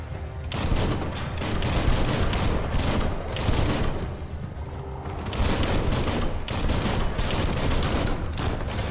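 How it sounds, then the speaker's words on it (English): Dense, sustained gunfire from weapons in the video game Biomutant, a loud near barrage of rapid shots and bursts running almost continuously with brief dips, with no talking. "I'm just blasting rounds everywhere, dude"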